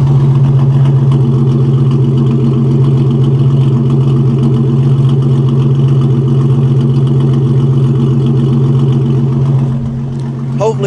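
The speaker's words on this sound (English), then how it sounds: "that idle from behind, it does sound a tad bit like a small V8." A car engine idles at a Mardi Gras parade with a deep, steady, loud rumble like a small V8. It holds an even drone for about ten seconds, then shifts slightly near the end.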